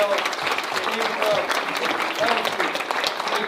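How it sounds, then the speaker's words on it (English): Council meeting audience claps for city staff, sustained, fairly close applause with a few voices calling out over it. "Could y'all stand up and give them a round of applause?"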